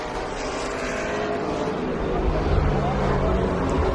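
NASCAR stock cars roar around the road course at the Toyota/Save Mart 350, a sustained engine drone swelling slightly louder toward the end while a commentator talks over it.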